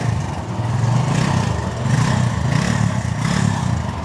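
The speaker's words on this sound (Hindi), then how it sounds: "देखें बाइक खड़ी, स्टार्ट चेक करें इधर" A motorcycle engine runs close by with a loud, steady, low chugging drone that swells gently in a few slow waves. No start-up moment is evident, and no one talks over it.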